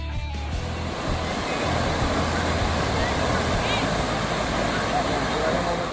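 Sea waves at Shrivardhan beach make a steady, loud surf roar with deep low rumble, continuing unbroken from start to finish.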